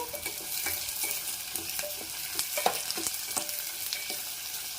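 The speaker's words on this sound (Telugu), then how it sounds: "సిమ్లో పెట్టుకొని దోరగా వేయించుకోవాలి" Green chilies fry in oil over a low flame, giving a steady soft sizzle with scattered crackles and occasional stirring scrapes, close and fairly quiet throughout, no voices.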